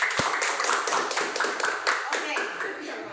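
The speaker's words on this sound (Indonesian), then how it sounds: "Berikan tepuk tangan kepada teman" Students in a classroom clap for a classmate, a brisk ragged round of hand claps with one sharp knock near the start, and voices mixed in throughout.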